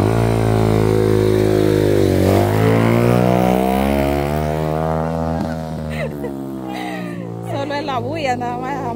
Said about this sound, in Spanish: Solo es la bulla, nada más, la moto